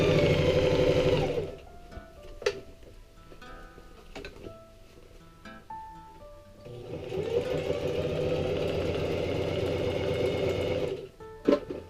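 A sewing machine stitches a patch onto a pair of pants in two loud, fast runs of whirring, rattling stitching. A quiet pause between them is broken by a few sharp clicks as the work is repositioned.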